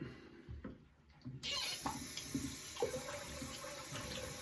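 Tap water runs to rinse a Kamisori-style shavette razor after shaving. A few quiet handling sounds come first, then the tap turns on abruptly with a steady close rush of water that lasts to the end.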